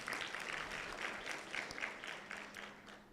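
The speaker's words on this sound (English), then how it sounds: "Clap for ourselves." An audience of school alumni at a breakfast meeting claps together, a fairly faint, even round of applause that gradually tapers off.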